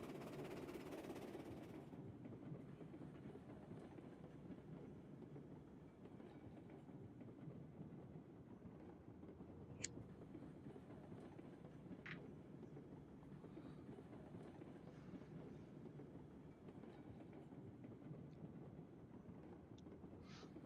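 A heavy freight train in the Railroads Online game rolls downgrade while its brakes are applied, a steady low rumble of rolling wagons with a few brief high squeals and clanks, fairly faint and without talk.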